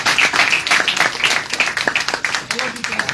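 An audience applauds at a Toastmasters event, a crowd clapping steadily and fairly close with talk over it.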